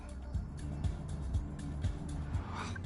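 A truck passes by in the video game Dustborn, a low engine rumble rolling along with a few soft thumps, moderately near and steady throughout.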